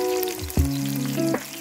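Garlic and tarragon fry in a pan for ratatouille, giving a loud, close sizzle with a burst as they hit the oil, then a steady hiss under faint stray tones.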